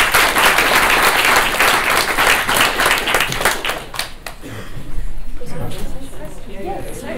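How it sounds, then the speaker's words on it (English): Loud, dense audience applause fills a conference room for the speakers at the close of an ecology and society session, steady clapping with some crowd chatter before it thins out toward the end. "please, one big applause for all the speakers for today's session"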